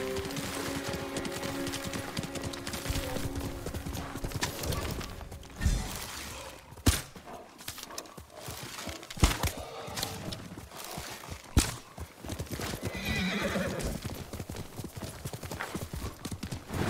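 Hooves clip-clop steadily in Ghost of Tsushima on PS5, with a horse whinnying and a few sharp thuds and crashes breaking through the galloping.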